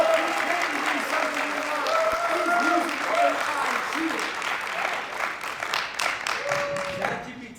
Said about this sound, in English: join them with your applause?